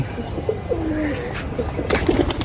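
Pigeons in a home loft give soft, low cooing calls close by, with light rustling and a brief burst of flapping or scuffling near the end.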